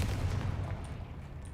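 Confringo blasting spell going off in the video game Hogwarts Legacy, a dense rumbling blast sustained through the moment with a hissy crackle on top, loud and continuous, no talk over it.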